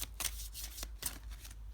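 A brief, close riffle of tarot cards being shuffled by hand: a few quick papery flicks and slaps at low volume, heard on their own.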